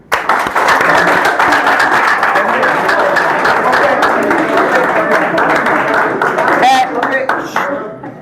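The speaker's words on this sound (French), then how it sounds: "Applaudissez-le." High school students in Dahra Djolof, Senegal, applaud at a school presentation, producing a loud, steady, crowded wash of clapping that fills the room and thins slightly near the end.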